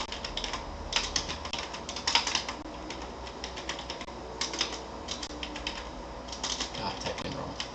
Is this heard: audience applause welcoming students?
no